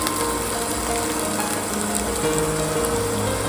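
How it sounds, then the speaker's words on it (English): Coconut mixture layered into hot oil in a pan for Goan Lepo fish sukka, giving a steady, close sizzle with light crackling that holds even throughout. "Now place 1 layer of coconut mixture over it"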